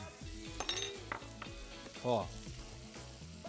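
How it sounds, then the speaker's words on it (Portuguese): Garlic and onion sizzle and fry steadily in a hot pan during a quick sauté, with stirring clatter and a brief swell of sizzling midway, plus a short vocal interjection. "E a gente vai dar uma refogada muito rápida"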